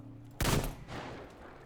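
A single sharp carbine shot rings out in the video game Metro Exodus, a loud crack followed by a short decaying rumble.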